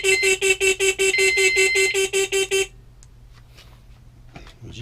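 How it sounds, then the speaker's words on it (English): Shrill pulsing alarm from an e-bike's horn and tail light alarms, about a dozen rapid loud electronic beeps in a steady rhythm for under three seconds, then cutting off to a quiet room with faint rustling. "with the horn alarm up here and the tail light alarm back there, if anybody tries moving the bike,"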